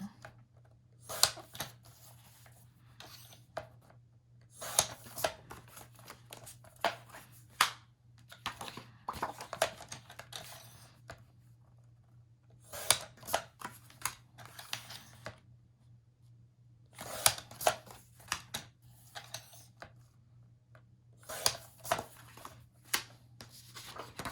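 Scissors cutting apart rows of paper in repeated bursts of crisp snipping and rustling, close and fairly quiet, with pauses between the cuts and a steady low hum underneath.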